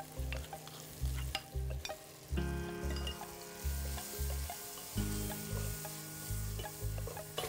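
Spices frying in oil with onion and garlic in a pan, a steady sizzle overlaid with rhythmic, clattering scrapes of a spoon stirring repeatedly against the pan, close and loud with no talking.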